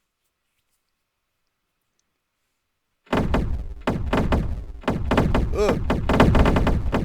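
Enemy AI characters fire weapons at one another in an indie game under development: after about three seconds of silence, a dense run of repeated, fairly loud impulsive shots and thuds keeps going to the end, with a brief groan near the start.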